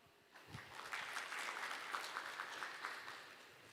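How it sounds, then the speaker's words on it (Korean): Audience applause at a smart construction expo forum as a presenter is welcomed, a steady round of clapping from a fairly large crowd that swells quickly and holds evenly, heard from a distance in a hall. "박수로 맞아 주십시오."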